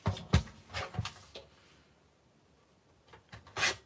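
Designer series paper being sliced on a paper trimmer, a few short rasping strokes at the start and again near the end, close and dry, separated by a quiet pause.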